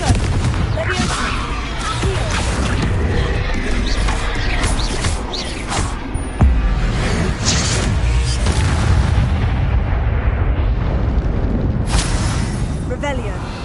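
Repeated Confringo spell blasts in the game Hogwarts Legacy boom continuously over dense combat clatter, with a spoken voice running underneath.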